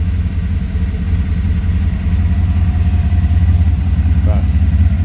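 A 2015 GM L83 direct-injection V8 idles steadily, a loud, close, even low rumble with a fast ticking pulse running throughout and a brief squeak near the end.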